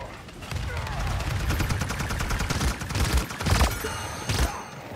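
Rapid gunfire in the hero shooter Paladins, a dense fusillade of shots sustained throughout with a few louder bursts near the end, with a player's voice talking over the shooting.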